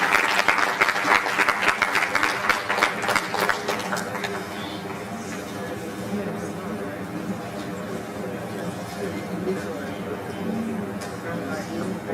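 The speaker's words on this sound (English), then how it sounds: "A round of applause for him." Applause from a conference audience greeting a company CEO, dense and loud at first, then thinning into scattered claps and murmuring chatter.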